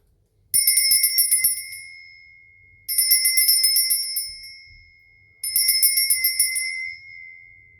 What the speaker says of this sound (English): I'm going to be ringing a bell. This is just to cleanse the space around us.